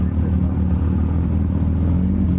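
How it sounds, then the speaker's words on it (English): Porsche GT2 RS engine at a Porsche 911 car meet, a continuous deep idle rumble, close and steady across the whole stretch, with no revs or speech. "And this is a GT2 RS."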